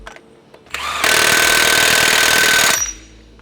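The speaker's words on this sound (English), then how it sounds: "I swapped the nuts over from left to right, so we're hammering back into a different position." A CV axle nut being driven back in on an Iveco 4x4 during a brake upgrade, heard as a loud, sustained rapid metallic hammering that lasts nearly two seconds, close up and alone.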